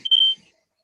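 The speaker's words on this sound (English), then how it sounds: "Is that a fire alarm? Yes. Yes, of course it is." A household smoke alarm set off while chicken cooks gives one sharp, piercing electronic beep lasting about a quarter second, then silence.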